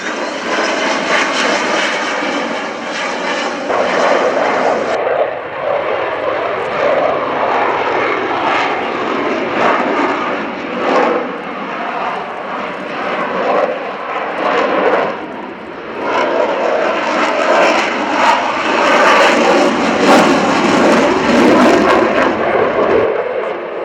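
A fixed-wing aircraft flies slowly past the crowd at the RIAT 2016 airshow at Fairford, its engine giving a loud, continuous roar that swells and holds throughout with no break.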